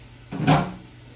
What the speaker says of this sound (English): Now I'm going to add my beans. And it's 2 cans of black beans that I rinsed and let drain.